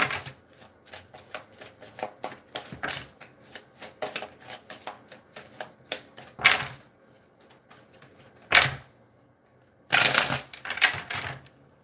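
Two tarot card decks riffle and tap in quick bursts, with a few louder shuffling sweeps and pauses between, close and crisp with no talking.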